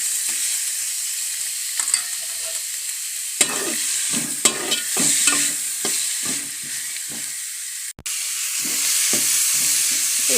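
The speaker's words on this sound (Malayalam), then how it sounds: "സവാള നമുക്ക് ഇങ്ങനെ സാവകാശം വഴറ്റി എടുക്കാം" Onions sautéed slowly with a little salt in a pan make a steady background sizzle under repeated spatula scrapes and knocks, with a brief break near the eighth second, close and fairly loud, with nobody speaking.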